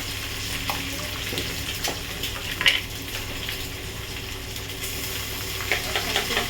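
Ginger paste sizzling in hot oil for a potato dum dish, a steady close frying hiss with a few brief crackling pops, no voices.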